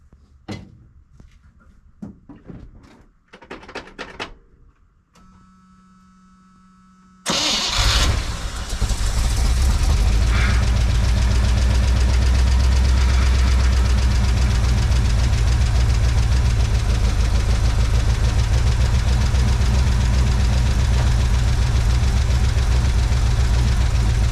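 After some quiet clicks and rattling, the engine of a 1982 Chevy K10 pickup, unstarted for years, cranks and catches, then settles into a loud, steady, rumbling idle that continues to the end.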